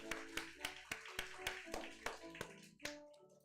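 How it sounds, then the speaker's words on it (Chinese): A church congregation at a combined Mandarin and Taiwanese Sunday service in Taipei claps in a fast, steady rhythm, about a dozen sharp hand claps over a few seconds, with a sustained tone in the background. "我们拍手鼓掌"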